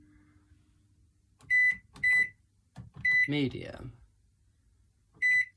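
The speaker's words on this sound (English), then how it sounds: "So into the microwave." A microwave oven gives several short, sharp electronic beeps, close and loud, as its settings are entered, with a person speaking briefly between the beeps.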